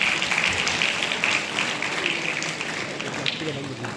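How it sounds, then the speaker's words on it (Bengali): Audience applause at a ceremony inaugurating a golden jubilee year celebration of the Tripura Board of Secondary Education, a steady wash of clapping from a crowd that fades slightly over a few seconds. "আবারও একটা করতালি সকলের কাছ থেকে।"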